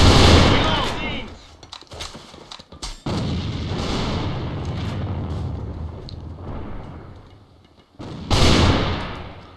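Rapid gunfire and explosive blasts from the online shooter game AVA during a competitive match with a sniper duel, loud bursts punctuated by sharp cracks and a heavy final shot, with a commentator's voice under the action.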